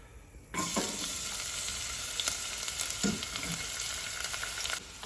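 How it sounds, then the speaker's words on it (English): A splash of sunflower oil heats in a pan and sizzles, a sudden steady crackling hiss that starts abruptly and holds at close range, with brief spitting bursts and a few light stirring knocks, then falls away near the end. "sort of fairly reasonable splash of sunflower oil in it. So just heat that up."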